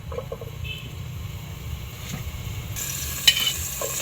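Ginger sizzles and is stirred in a large cooking pot, a soft steady frying hiss with occasional scraping and clinks of the utensil.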